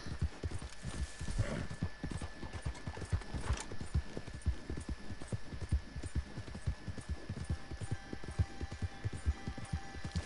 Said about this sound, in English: Horse doesn't want to go that way.